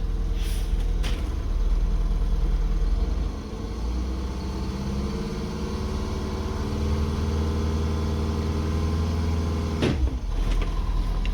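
An MCI coach bus with a new brake valve pulls away once its brakes are released, a steady diesel engine rumble with a slight shift in pitch early on and sharp clanks and hisses near the end.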